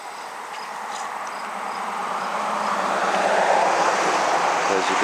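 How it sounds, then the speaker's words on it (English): Steady road traffic rushes past near a garden art center, a broad hiss that swells gradually louder over a few seconds with no talk. "As you can hear the traffic going by"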